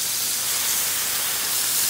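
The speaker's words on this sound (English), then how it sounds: "Listen to that sizzle." Meat patties sizzling on a Blackstone propane griddle, a steady close crackling hiss filling the short stretch with no talking.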